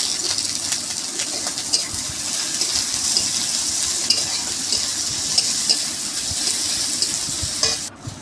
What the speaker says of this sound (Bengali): তারপরে সেগুলোকে ভালোভাবে তেলের মধ্যে নাড়িয়ে চাড়িয়ে নিতে হবে যতক্ষণ না সেটা লাল লাল পর্যন্ত ভাজা হয়।